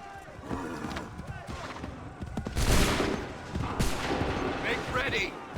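Gunfire erupts as a volley from a line of soldiers on command, with a loud burst of overlapping shots followed by further scattered reports. Shouting voices are heard throughout.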